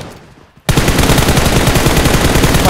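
Dense, rapid automatic gunfire in PUBG Mobile bursts in loudly after a brief quiet stretch and keeps rattling steadily to the end, with no talk over it.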